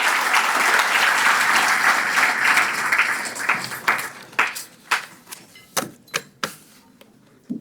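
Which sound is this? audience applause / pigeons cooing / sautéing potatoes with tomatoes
audience applause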